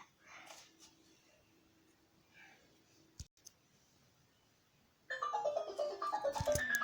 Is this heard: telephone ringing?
yes